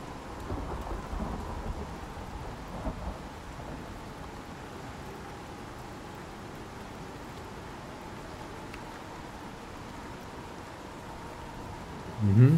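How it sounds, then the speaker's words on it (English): Steady rain hisses throughout with low rumbling thunder rolling underneath, a continuous stormy wash with a louder burst at the very end, from the video game Icarus. "And at least the rain. Rain is raining."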